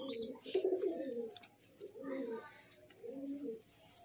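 Pigeons of the Giribaz and Lal-kat Madras breeds coo in three soft, throaty bursts at close range, with brief pauses between each phrase and no talking.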